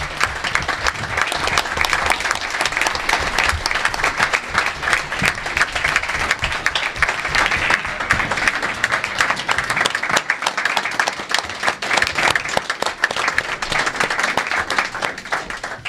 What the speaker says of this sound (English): If you would please stand so we can give you a round of applause.